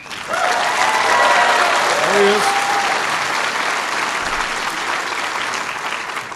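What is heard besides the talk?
audience applause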